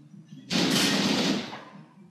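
A single loud rifle shot in the video game Silent Storm, a sharp onset followed by a broad roaring blast that decays over about a second, heard alone.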